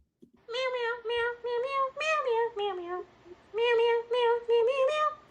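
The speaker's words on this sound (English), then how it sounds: "It's a sexy cat." A cat meows repeatedly in a run of clear, drawn-out calls with short gaps, close and loud, with no talking over it.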